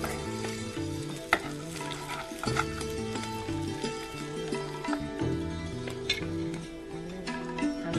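Red chillies frying in hot oil as a tempering for fara, a popular breakfast dish from Uttar Pradesh, a continuous close sizzle with a few sharp spits and stirring clatters, with no talking.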